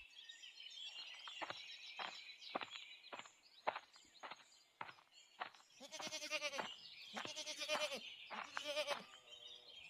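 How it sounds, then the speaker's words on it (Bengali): A goat in a Bengali cartoon bleats loudly, first in a run of short sharp cries with footstep-like taps, then in longer wavering bleats repeated close by. "আর ছাগলটা খুব চিৎকার করছে যে"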